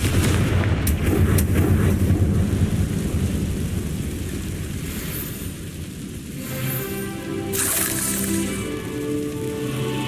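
In the video game Hogwarts Legacy, a Confringo fire spell bursts with a loud, booming blast. A rumbling, thunder-like roar rolls on and slowly fades, with further crackling impact noise later. No voices.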